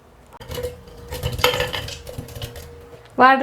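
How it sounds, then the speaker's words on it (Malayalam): Clattering and clinking of watermelon pieces dropped into a blender jar, a few knocks and scrapes, ending with a sharp louder clunk. "നമുക്കിത് മിക്സിയുടെ ജാറിലേക്ക് മാറ്റാം"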